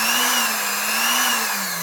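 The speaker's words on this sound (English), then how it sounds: "it's made into a power drill." Electric motor built into a power drill, running continuously with a steady high whine and a slight wavering in speed, loud and close with no talk.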